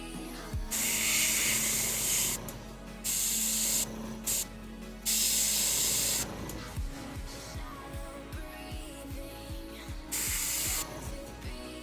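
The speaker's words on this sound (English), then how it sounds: "Going to take some time in cleaning the airbrush." An airbrush being cleaned gives several loud, close bursts of spray hiss, each lasting one to two seconds, separated by pauses filled with faint clicks and handling taps.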